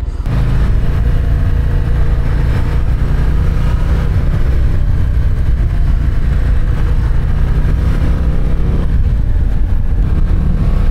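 A Harley-Davidson Street Glide motorcycle's engine running while riding, a loud continuous low rumble with wind rush, steady throughout at close range.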